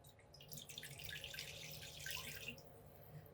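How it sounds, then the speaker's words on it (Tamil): Water trickles and splashes steadily into a pan, to be boiled for corn, a soft, continuous pour with faint dripping, fairly quiet. "ஒரு பேன் வச்சுட்டு மக்காச்சோளம் வைக்கிற அளவுக்கான தண்ணி ஆட் பண்ணிப்போம்"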